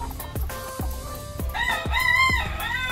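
RTL chickens clucking close by, with a rooster letting out a loud crow in the second half over short, sharp bursts of clucking from the flock, without talk.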